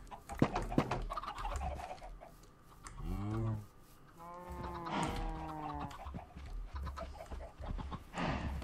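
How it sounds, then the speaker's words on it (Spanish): Chickens in the Minecraft video game cluck and squawk in drawn-out, rising calls, several overlapping near and loud, with someone talking in between. "Madre mía, las gallinas cómo están a tope, ¿no?"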